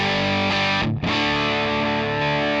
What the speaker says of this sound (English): This is the head simulation without the distortion pedal in front of it.